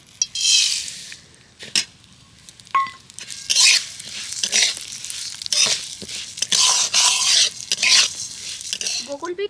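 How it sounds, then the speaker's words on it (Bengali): Moong dal being fried and stirred in hot oil in a pan, with repeated scraping stirs and clinks over a faint sizzle, close and fairly loud. "ডালটাকে এখন ভালো করে তেলের সাথে ভেজে নেবো"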